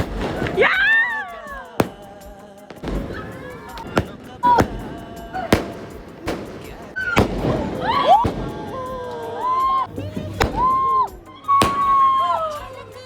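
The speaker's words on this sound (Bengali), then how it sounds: "একদিকে বারবিকিউ হচ্ছে, অন্যদিকে খুব সুন্দর ফায়ারওয়ার্ক।" New Year fireworks going off around a rooftop during a barbecue: repeated sharp bangs and crackles, some close and some farther off, with whistling rockets rising between them.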